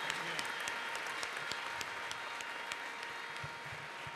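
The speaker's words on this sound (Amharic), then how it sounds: "ተነሱ ቆማችሁ አጨብጭቡላት" A church congregation on its feet clapping for a woman, a dense, steady patter of many hands filling the whole stretch at moderate distance, without a break.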